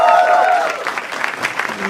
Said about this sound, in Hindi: जोर तालियां हो जाए पैनल के लिए